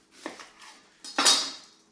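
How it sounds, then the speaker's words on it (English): Large onions being peeled and sliced on a kitchen surface, two short bursts of knife and handling noise with a clattering thump in the second, close and without talk. "get these peeled and sliced."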